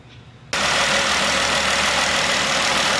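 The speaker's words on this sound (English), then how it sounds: "the engine has been started" A Jeep Wrangler engine catches abruptly after a brief quiet moment, then settles into a steady, loud, close idle with a constant broadband rumble and no speech.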